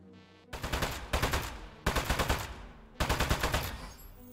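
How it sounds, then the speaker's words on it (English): Rapid bursts of automatic gunfire strike a metal enemy in the video game Aperture Desk Job, three loud sustained volleys separated by brief pauses, close and dominant. "So shoot the metal."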